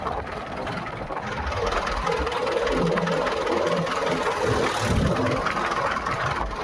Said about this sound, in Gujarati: તો ચલો આ રહ્યું ટ્રેક્ટર.